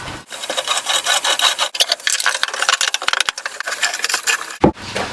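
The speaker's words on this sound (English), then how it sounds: "we're going to start by drilling a 2-inch diameter hole right here" A 2-inch hand T-auger bores into wood with continuous rasping, grinding scrapes in irregular turning strokes, close and loud, with a brief knock near the end.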